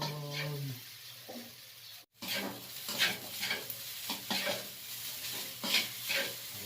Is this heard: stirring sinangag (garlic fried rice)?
yes